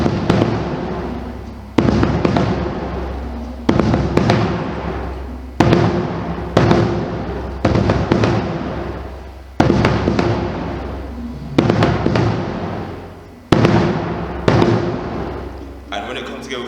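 Marching bass drums play a section of a marching beat, heavy booming strokes landing in regular groups roughly every two seconds, each ringing out and decaying before the next pattern starts.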